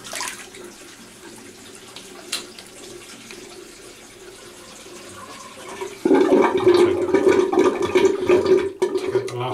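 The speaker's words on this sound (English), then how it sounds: "Just run out the hot water." A hot water tap runs into a sink during a wet shave with a vintage razor, starting as a faint background trickle and then gushing loudly and steadily for a few seconds near the end.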